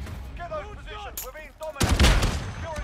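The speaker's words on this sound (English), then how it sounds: "That shotgun's doing my head in" Shotgun fire in Call of Duty Modern Warfare lands as a sharp, loud burst of gunfire with a rumbling tail, following a stretch of rising chirpy game tones; a voice is heard in the mix.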